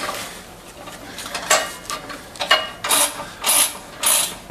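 Clamps on a No-Mar tire changer are ratcheted tight while a Harley Sportster rear tire is fitted, giving a run of short metallic clicking bursts. They grow louder and more regular toward the end, close by and with no talk over them.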